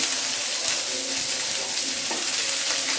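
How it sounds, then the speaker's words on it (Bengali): Chopped onion hisses loudly and evenly in a hot pan while it is stirred, a dense close sizzle with faint scraping, cooked for a loitta dried-fish roast. "পেঁয়াজ কুচি করে দিয়েছি পেঁয়াজটা একটু নেড়ে চড়ে"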